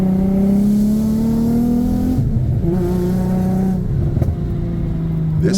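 Infiniti G35 coupe with its VQ V6 running close and loud, holding a rising steady drone before dropping back and blipping through a few sharp revs.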